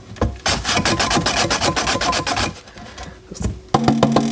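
A watermelon slides across a mandolin slicer in a home kitchen, giving a rapid, rhythmic scraping as slice after slice is cut close up. It pauses briefly, then a few heavier clunks follow.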